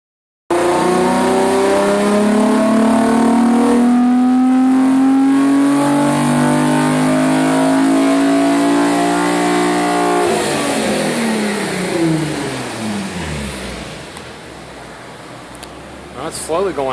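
Nissan 350Z / Infiniti G35 engine revving hard on a dyno, a loud rising wail held for about ten seconds before the pitch drops and the engine winds down, with voices talking over it.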